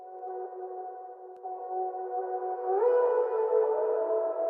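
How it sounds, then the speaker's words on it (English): Reversed synth and vocal melodies drenched in reverb and filtering, smooth sustained tones that swell and bend upward midway before settling into a lower held note, soft and clean with no talking. "Reversing the vocal, adding reverb, filtering it, and then just chopping."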